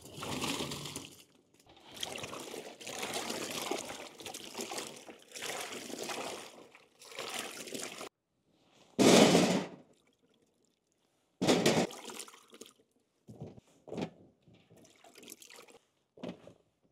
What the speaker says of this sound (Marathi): आपण आता शिमला मिरची धुवून घेऊ स्वच्छ